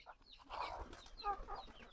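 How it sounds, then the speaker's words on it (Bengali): A hen with four chicks clucks softly in short bursts, with faint cheeping, quiet and close in a calm outdoor setting on a pigeon farm. "ওই মুরগিটা দেখেন চারটা বাচ্চা আছে"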